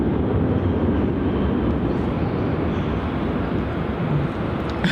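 A Virgin Australia passenger jet roars steadily as it departs Melbourne Airport, a loud, continuous broadband engine rumble heard alone without any voices.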